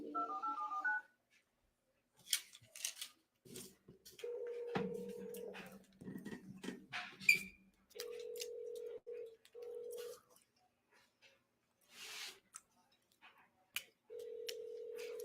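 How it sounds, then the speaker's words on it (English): Telephone call being placed: a short burst of dialing tones, then a repeated ringback tone in separate spaced pulses, with faint clicks and noises in between. "So let's give him a call, Mr. Douglas."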